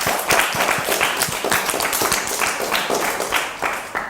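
An audience at a children's rights presentation claps in a dense, steady burst, many hands overlapping into a loud, continuous wash of applause that holds for about four seconds, with maybe some cheering mixed in.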